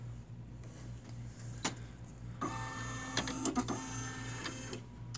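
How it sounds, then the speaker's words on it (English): A Brother PE 770 embroidery machine calibrating, with a steady low motor hum joined by a higher whirring drive and a few ticks and clicks as the mechanism moves, close and fairly quiet. "I'm going to go ahead and uh, get the machine calibrated"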